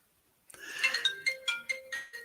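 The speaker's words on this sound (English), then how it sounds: "Okay, well, Sarge is going to be on the phone" A telephone ringtone plays alone as a short electronic melody of repeated tonal notes, fairly clear and close, starting after a brief silence and ending with a sharp click.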